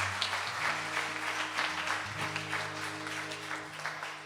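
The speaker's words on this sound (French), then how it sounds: "on l'applaudit encore plus fort" Church congregation applauding during a worship celebration, a steady wash of clapping over sustained low organ or keyboard tones, moderately distant and continuous throughout.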